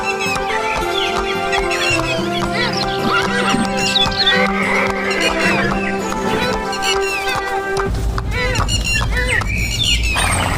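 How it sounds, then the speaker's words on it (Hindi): A horse sets off from a palace carrying a king, heard as a loud neigh and clip-clop hooves amid chirping birds, with busy background music throughout. "राजा महल से घोड़े पर सवार होकर अकेले ही निकलता है"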